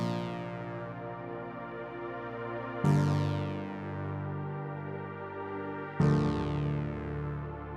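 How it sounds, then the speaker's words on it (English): A soft, stringy synth pad sustains chords over a deep OB-6 bass line, with new chords swelling in at about three-second intervals, steady and close, with no voices. "Just give it this little background pad, stringy pad. Added this with the OB6 next bass."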